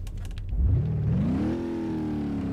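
A 7-liter V8 mod engine in the BeamNG driving game idles, then revs sharply upward and holds a steady higher-pitched drone, loud and close.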